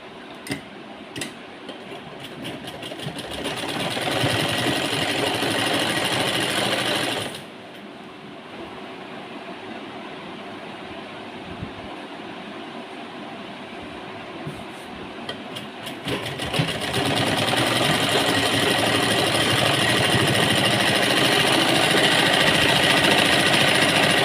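A sewing machine stitches a cuffed sleeve in a tailoring demonstration, a steady rapid mechanical whir running throughout, close and loud, slowing to a quieter stretch midway before speeding back up with no talk over it.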